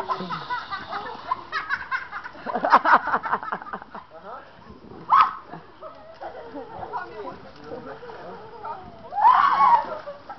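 Water splashes during a playful water fight outdoors, with several loud splatters and sloshes among lively chatter and laughter from nearby people.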